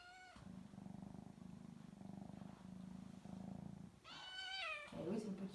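A small cat purs steadily for several seconds in a low rumbling drone, then gives a couple of clear, close meows that rise and fall at the end.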